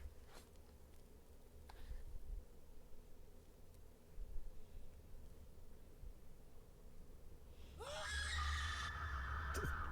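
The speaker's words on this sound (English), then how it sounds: "is one amazing scream" A shrill scream from a game trailer rises sharply near the end over a low, murky ambient bed, loud and brief.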